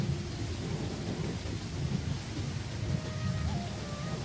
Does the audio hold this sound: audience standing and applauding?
no